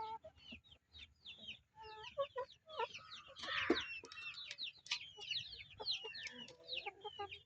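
Village hens clucking steadily on a Sri Lankan backyard farm, with many overlapping calls and short cackles that rise into a busy burst midway, heard fairly close and with no talking.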